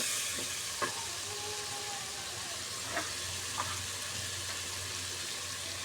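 Steady soft sizzle of salt, chili, spices and turmeric frying in oil for khichuri, with a few faint clinks of a stirring spoon over a low background hum.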